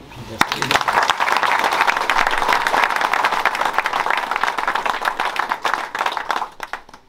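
An audience at a gendarmerie friends' New Year's wishes ceremony breaks into sustained applause, dense clapping rising quickly and holding strong for several seconds before thinning out, with a voice briefly audible at the start.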